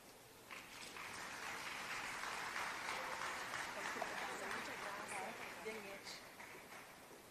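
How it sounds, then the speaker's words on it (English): Applause from the audience at a micro, small and medium-sized enterprises linkages day event, a sustained, even roar of clapping heard from a distance, fairly faint, rising quickly and carrying on steadily. "Another round of applause."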